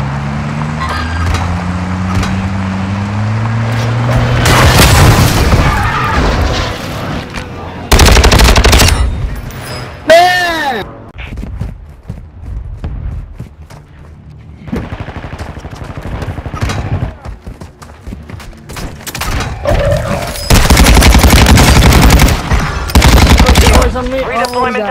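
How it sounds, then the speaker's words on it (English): Airstrike explosions and heavy gunfire from the Call of Duty Warzone video game, with loud bursts of automatic fire and booming blasts repeating throughout amid engine noise. "Friendly airstrike in the AO"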